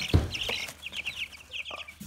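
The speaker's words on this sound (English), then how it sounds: "We feed on non-medicated chick feed, do more poultry, and here's the chicks here." Broiler chicks in a poultry brooder, a busy flock of high, rapid peeping chirps close by, with a few soft thumps of movement.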